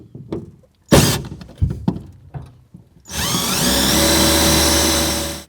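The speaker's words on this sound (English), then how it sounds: "So I'm going to drill a little hole" A few clunks and knocks, then a power drill whirs steadily for a couple of seconds, close and loud, drilling a small hole in the corner of a 2014 Chevy Silverado truck bed, before stopping.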